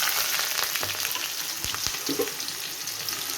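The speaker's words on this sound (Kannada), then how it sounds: "ಹಸಿಮೆಣಸಿನಕಾಯಿ ಕರಿಬೇವು ಸೊಪ್ಪು ಈರುಳ್ಳಿ ಹಾಕ್ತಾಯಿದ್ದೀನಿ" Onion, green chilli and curry leaves frying in hot oil for bitter gourd palya, a loud continuous sizzle with a few sharp spatters and stirring scrapes, no voices.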